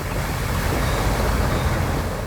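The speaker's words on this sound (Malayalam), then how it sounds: "വടക്കൻ ജില്ലകളിൽ മഴ അതിശക്തമായി തുടരുകയാണ്" Heavy monsoon rain in northern Kerala pours down as a loud, dense, steady hiss and roar, with no voices.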